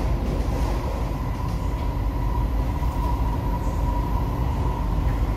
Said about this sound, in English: Sorry for the train noise because I'm in the train now.